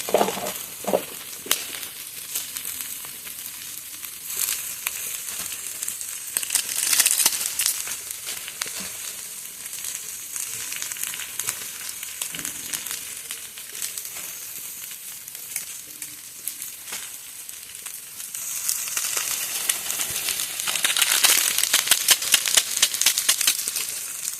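Chopped tomato and packet Maggi masala sizzling steadily in a hot frying pan, a continuous crackling hiss with small spatters and occasional stirring scrapes, close and fairly loud, with no talking.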